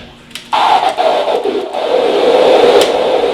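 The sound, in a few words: DJ mixer noise knob effect with echo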